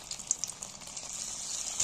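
Egg pieces frying in oil in a pan make a steady close sizzle with small crackles and pops throughout, no talking.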